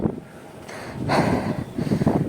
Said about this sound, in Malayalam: കാറ്റ് നല്ല രീതിക്ക് കാറ്റുണ്ട്